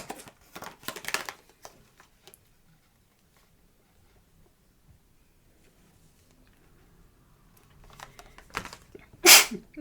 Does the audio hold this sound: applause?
no